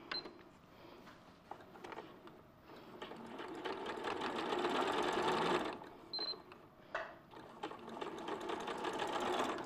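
Sewing machine stitching quilt strips together, running in short bursts with a rapid mechanical whirr and brief pauses between runs, fairly close.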